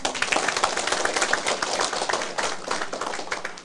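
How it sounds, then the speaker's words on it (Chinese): Audience applause at a lecture on Taiwan's political future, a steady dense patter of many hands clapping throughout at moderate loudness, with no talk over it. "你替咱家己拍手嘛"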